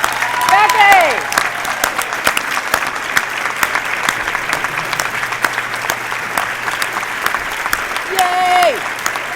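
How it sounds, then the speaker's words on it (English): Applause at a university alumni awards gala, a dense sustained round of clapping from a large audience filling the room, with cheering voices and a few shouts rising over it. "give her a big round of applause"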